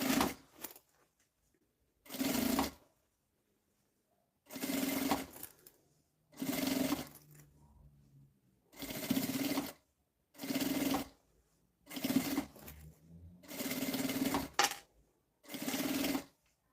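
A domestic sewing machine runs in repeated short bursts of rapid stitching with quiet pauses between, sewing bias binding along both sides of a small fabric vanity case.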